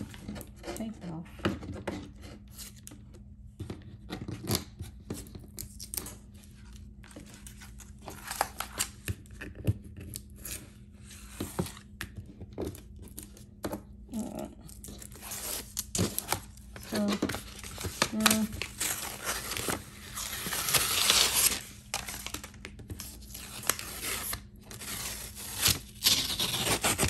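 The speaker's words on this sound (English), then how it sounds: "Need to cut all the paper off." Scissors snip and crinkle through paper stuck to a sublimated game board, with irregular close cuts, rustling and tearing sounds, and a person talking at times.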